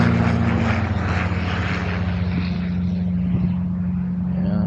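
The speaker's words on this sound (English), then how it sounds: "a twin engine landing, and one getting ready to take off" Twin-engine propeller aircraft at an airfield, one landing and another preparing to take off, produce a loud steady engine drone with a low propeller hum that slowly fades, heard alone without talk.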